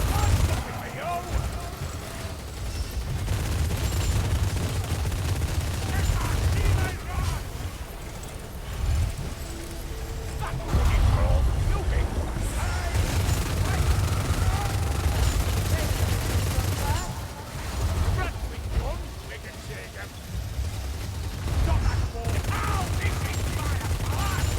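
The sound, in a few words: Crankgun gunfire in a video game (Vermintide)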